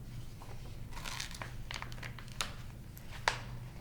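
Pages of a paper journal turned one after another, soft crinkling rustles with a couple of sharper paper snaps, close and quiet under a low background hum.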